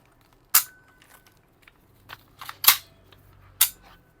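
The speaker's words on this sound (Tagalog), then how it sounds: "Okay, so working na rin yung bolt release niya." Kyrtac REC7 Barrett airsoft rifle bolt release clicking, four crisp metallic snaps heard up close against near silence, one at the start and a quick cluster a second and a half later.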